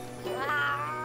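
A single short, rising-and-falling cat meow comes from the video game Monster Hunter Stories 2, clear and close over a quiet game background.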